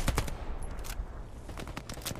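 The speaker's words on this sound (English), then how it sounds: "It's artillery at the moment." Artillery and gunfire in the video game Hell Let Loose, with a rapid series of sharp shots and thumping impacts rattling off close and loud.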